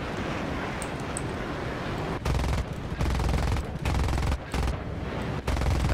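A fighter plane's machine gun fires in the War Thunder video game: several loud, sustained bursts of rapid gunfire separated by short pauses, over steady engine and wind noise.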